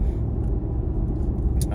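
A Ford 7.3-litre Godzilla V8 pickup towing 12,000 pounds in eighth-gear overdrive at about 45 mph gives a steady low cabin drone and road rumble, loud and continuous with no talk over it.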